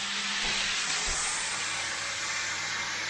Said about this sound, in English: we're going to cook our bacon. Probably be quite noisy